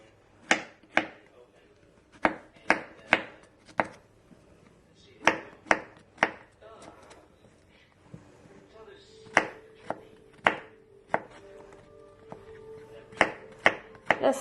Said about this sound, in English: Next, we're going to chop our mushrooms.